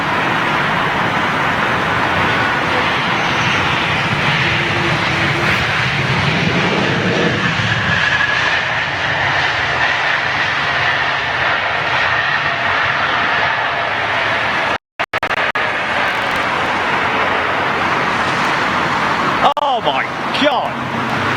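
An Airbus A319 landing at Heathrow in stormy weather, its engines roaring in reverse thrust as a loud, sustained broadband rumble that swells and slowly fades, with a brief dropout midway and a voice talking over the noise.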